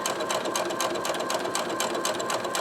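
A sewing machine stitching a koozie, running in a fast continuous mechanical chatter at close range, loud and steady throughout with no pauses.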